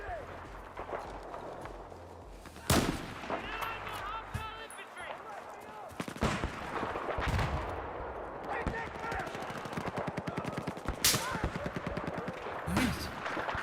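Sniper rifle fire in the shooter game Warzone, a few sharp isolated shots standing out over continuous game noise of footsteps and rattling gunfire, with a voice talking throughout.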